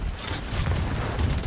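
Gunfire in the shooter game The Division 2, heard as a continuous dense burst of shots with rumbling low end, loud and steady throughout with no clear gaps between rounds.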